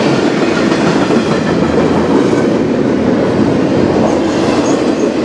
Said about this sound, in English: Yep, fully empty train.